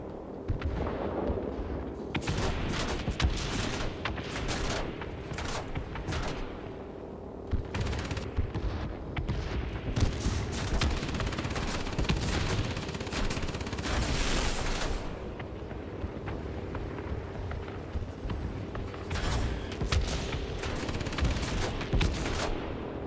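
Anti-aircraft gunfire in a flight game aboard a B-32 bomber, loud continuous booming bursts and rattling shots spread across the whole stretch over engine drone.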